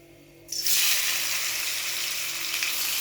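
Parboiled tender jackfruit drops into hot oil after a quiet moment, setting off a sudden loud sizzle that keeps crackling steadily and close up.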